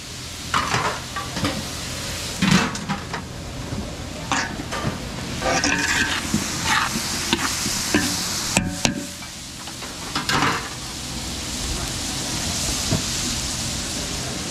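Ground pork-style ground meat and hotdogs frying in a pan for a catering spread in Masantol, Pampanga, with a steady sizzle and repeated stirring scrapes, utensil clinks and a few sharper knocks throughout, no talking.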